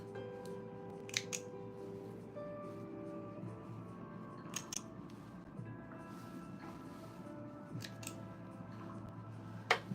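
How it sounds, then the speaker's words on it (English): Scissors snipping loose thread strings off a serger-sewn shirt, several crisp quick cuts close by, in short clusters separated by pauses, over faint background hum with no talking. "let me find my scissors. Get these strings off."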